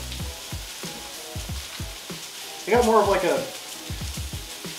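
Steak frying in a hot pan with a knob of butter, a steady sizzle under close cooking clatter and rhythmic thumps, with a brief louder burst of spitting fat partway through.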